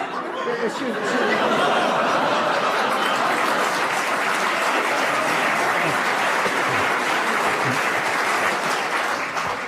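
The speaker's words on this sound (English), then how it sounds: "I must explain to the listeners that the applause there" Steady audience applause fills the whole stretch, dense even clapping from a large crowd with a few scattered chuckles mixed in.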